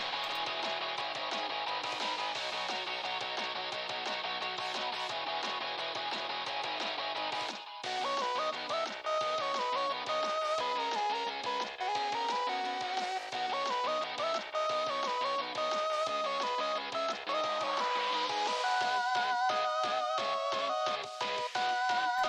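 A song playing in the video game Super Lesbian Animal RPG: a dense, continuous, bright electronic track with busy melodic lines and a brief drop midway, steady and full throughout.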